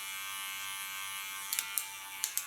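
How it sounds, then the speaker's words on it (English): An electric hair clipper buzzes steadily and close while trimming the nape hairline, with a few sharp little clicks and taps near the end. "Use my clipper as a comb and work into the line of cutting."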